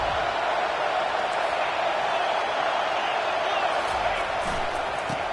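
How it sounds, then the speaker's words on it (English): Football stadium crowd early in a Michigan game, a steady loud roar of many voices filling the whole stretch without letup. "Listen to the crowd energy here in the early going."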